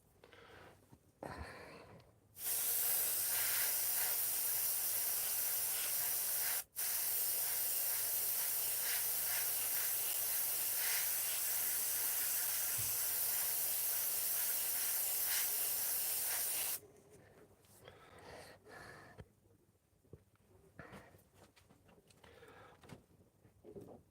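An airbrush sprays paint over vintage sign lettering cutouts, a steady loud hiss running about fourteen seconds without a break, then cutting off to quieter handling noises.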